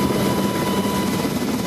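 A helicopter takes part in an emergency air evacuation drill at the Panmunjom Joint Security Area. Its rotor and engine make a loud, continuous roar that fills the whole moment at a steady level.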